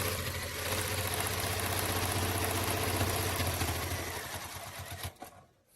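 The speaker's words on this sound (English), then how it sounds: "raising my presser foot so I can pivot and continue to sew straight" Sewing machine stitching straight through quilting fabric for a patchwork bow, running as a steady, fast mechanical hum with rapid needle rattle that slows and stops near the end.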